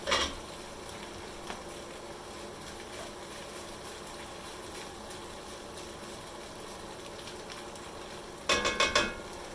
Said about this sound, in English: The whole point is to get like a nice little sear on the shrimp.